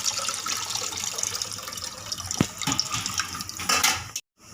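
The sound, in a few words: pouring tamarind water into ground coconut-onion paste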